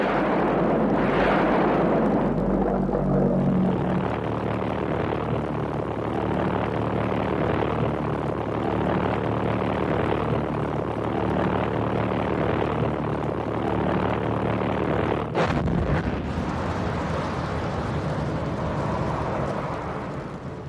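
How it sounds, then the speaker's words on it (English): A V-1 flying bomb from 1944 over London roars past with a loud, continuous, rough engine drone that holds steady before cutting off sharply near the end, followed by a fading rumble. "the first wave of a new terror hit London, the V-1 flying bombs."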